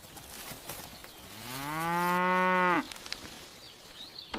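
A single cow gives one long, clear moo that rises and then cuts off, heard at moderate distance over quiet farmyard background.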